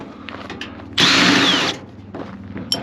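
A Milwaukee power drill spins out security screws on a microwave being scrapped, one loud steady whirring burst of under a second, close by, with quieter workshop clatter before and after.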